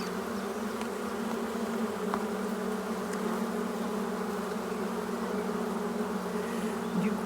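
Honeybees buzz continuously and densely around the hive while a colony is moved from a nucleus box into a full hive, a steady close drone with no speech.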